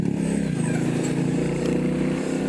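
A 2024 Royal Enfield Bullet 350 single-cylinder motorcycle pulls away, its engine thumping and rising in pitch as it accelerates, loud and close, with a steady rumble underneath.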